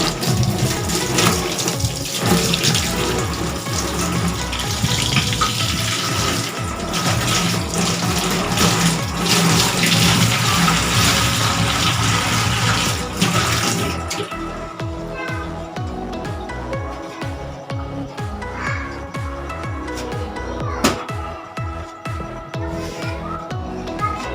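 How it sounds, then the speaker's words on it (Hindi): Tap water runs steadily into a sink while something is washed by hand in a home kitchen, a continuous splashing stream that thins out after a while, with scattered clinks and handling noises over it. "अब इसको जो है ना मैं धो लेती हूँ।"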